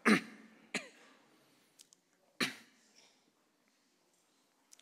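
A few scattered coughs and throat clearings from a church congregation during a Sunday service, spaced apart with quiet between them.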